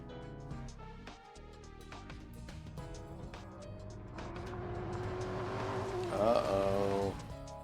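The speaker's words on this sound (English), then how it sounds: "I heard Ku's car engine" A racing car engine in a video game draws nearer, revving and rising over layered game music and effects, with a brief tire squeal late on and the sound swelling toward the end.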